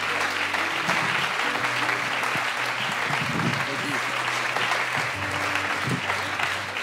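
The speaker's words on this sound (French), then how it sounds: "Je propose qu'on se lève et qu'on l'applaudisse" A congregation at an evening miracles and healing church service stands and applauds, a dense, sustained wave of clapping that holds loud and steady throughout, with faint voices mixed in underneath.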